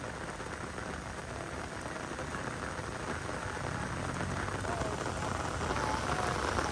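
Heavy rain pours steadily over flooded streets in Marikina City, a dense, continuous hiss of drops drumming on surfaces that holds at an even, loud level and swells slightly toward the end.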